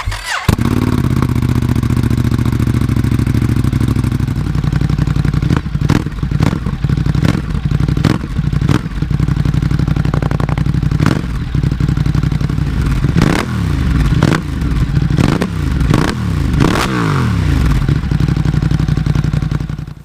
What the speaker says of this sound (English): Now this is what I think a Ducati Twin should sound like.